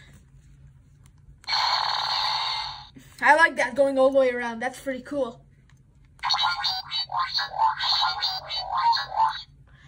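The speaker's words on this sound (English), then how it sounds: "That was a pretty unique sound. And then we get the basic Omnitrix sound again." Ben 10 Creator Omnitrix toy from 2020 plays electronic dial sound effects: a buzzing synthetic tone, then a warbling melodic burst, then a longer fluttering electronic sequence, close and loud with a person talking briefly between them.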